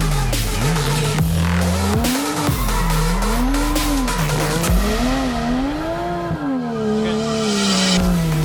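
A drift car doing power-over donuts, its tires squealing loudly and continuously as the engine note rises and falls in sweeping waves, close and alone.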